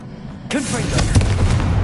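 Confringo blasting spell fired in the video game Hogwarts Legacy: after a quiet moment, a sudden loud magical explosion erupts, followed by a rumbling, crackling boom that lingers to the end.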